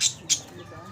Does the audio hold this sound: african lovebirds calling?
yes